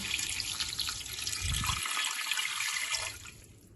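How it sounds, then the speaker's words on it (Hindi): Water pours into a pressure cooker holding meat for aloo gosht, set on a stove over a high flame, making a loud, steady splashing stream that runs for a few seconds with no voices. "पानी ऐड करेंगे"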